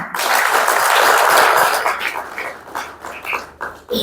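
Audience at a Kenyan political event applauding President Mwai Kibaki: a loud burst of clapping that swells over the first two seconds, then thins into scattered claps and fades near the end, with no talk.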